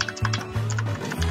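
Fast typing on an Imperion Slingshot KG-321 mechanical keyboard: close, crisp key clicks in quick runs over a steady low hum.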